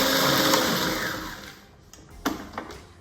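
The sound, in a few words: blender blitzing almonds and dry ingredients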